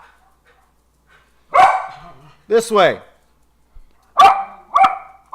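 Dogs bark indoors in several short, loud bursts with yips mixed in, coming in clusters with pauses between them, while a person talks briefly nearby.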